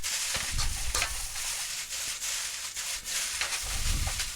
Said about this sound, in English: Let's stir and flip.